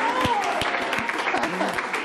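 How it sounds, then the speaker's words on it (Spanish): A Spanish TV show studio audience claps, a crowd's patter carrying a few sharp, close individual claps, with voices and a whoop mixed in beneath the applause. "¡Un aplauso!"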